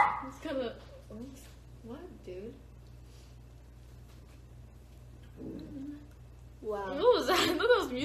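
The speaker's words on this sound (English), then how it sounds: "I thought that was music playing, but it was your dog barking." A dog barks in a few short bursts amid quiet talk and chuckling, then a louder, sustained bout of barking at the end.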